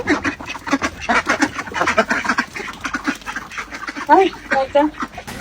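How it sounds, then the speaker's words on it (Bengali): Ducks and chickens let out of their coop in the morning in a village, with loud repeated quacking close by, overlapping bursts mixed with talk throughout. "সকালবেলা ঘুমের থেকে উঠায় হাঁস মুরগি ছাড়া দিতে আছে"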